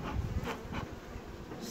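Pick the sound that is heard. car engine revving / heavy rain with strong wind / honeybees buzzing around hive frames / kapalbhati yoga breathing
honeybees buzzing around hive frames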